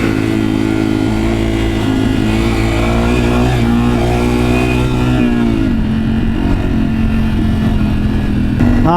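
A Yamaha TW200 motorcycle riding along the road on a group ride, its engine droning loud and steady with a slight dip in pitch midway, wind rush mixed in, no talking.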